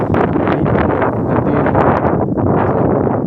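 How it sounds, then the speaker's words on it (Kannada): Wind blows outdoors near a canal, a steady, loud rushing buffet against the microphone that lasts throughout with no talking. "ಬೀಸೋ ಗಾಳಿ ನಿಮ್ಗೆ ಹೇಳ್ತಾ ಇದ್ದೀನಿ"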